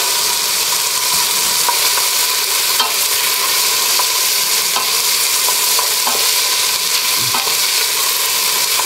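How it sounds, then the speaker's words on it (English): Garlic fries in a pan for a roast cauliflower and parsnip soup, giving a steady, close sizzle with faint stirring scrapes and no speech. "So I'm going to add the garlic now. And there's the garlic."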